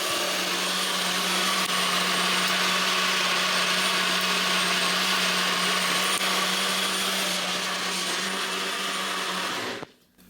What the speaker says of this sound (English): that NutriBullet is good, bit of kit, but it's fucking loud